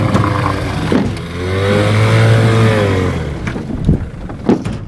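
Outboard boat motor revving as the boat pushes through mud, a loud rising and falling engine drone close by, with splashing and bumps around it.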